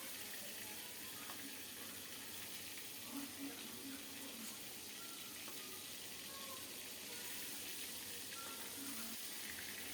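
Sea bele fish frying in a pan with oil on a lowered stove flame, a steady soft sizzle and hiss running the whole time at moderate level with faint kitchen clatter.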